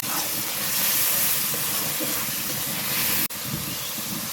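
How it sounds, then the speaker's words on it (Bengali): Boiled tomato paste hits hot oil in a pan, giving a loud, steady sizzling hiss that runs almost without a break, cuts out sharply for an instant near the end, then resumes. "টমেটো পেস্টটা এখন দিয়ে দেব।"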